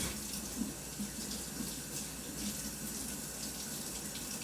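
Tap water runs steadily into a sink while a couple of things get washed, a constant close splashing gush with no voices.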